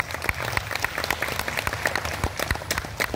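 An audience claps at a World Meditation Day gathering in Tirupati, giving steady, fairly soft applause for about three seconds.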